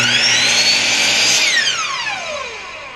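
A power saw tilted to 45 degrees makes a short test cut in wood, starting as a loud high whine under load that drops in pitch as the blade spins down, heard alone at close range.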